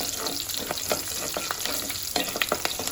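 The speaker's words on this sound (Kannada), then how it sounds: "ಈರುಳ್ಳಿ ಚೆನ್ನಾಗಿ ಫ್ರೈ ಆಗಲಿ." Onions frying in a few spoons of oil in a kadai, a steady close sizzle with scattered crackles and brief stirring scrapes throughout, no voices.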